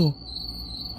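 Crickets chirp steadily in a continuous high whine after a brief low thump at the start, a quiet nighttime drone.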